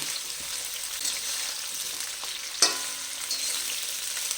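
Carrots frying in a mix of white oil and ghee, a steady crackling sizzle with one loud clatter as they drop or get stirred in the pan.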